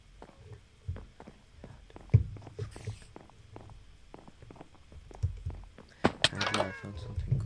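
Toward the end a cat lets out a loud, harsh cry over scattered clicks and thumps, with faint talk in the room during a Minecraft live stream.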